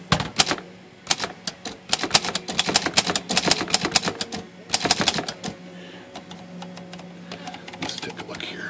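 Hermes 2000 manual typewriter typing, with bursts of sharp, rapid key strikes in an irregular rhythm and short pauses between runs, close and clear, followed by a quieter stretch of faint mechanical clicks.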